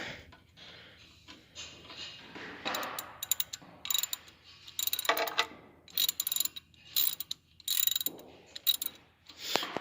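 Clamps on a John Deere 214 are worked loose with a screwdriver, producing close, repeated bursts of metallic ratcheting and clicking that grow busier and louder toward the end.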